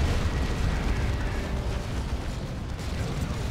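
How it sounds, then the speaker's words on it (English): Artillery-style cannon fire and explosions in the real-time strategy game Dawn of War 2 Retribution, from two D-cannons, merge into a dense, continuous rumbling wash of booms during a 3v3 match. "And we have 2 D cannons."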